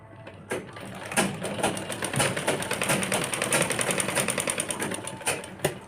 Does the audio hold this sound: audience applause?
no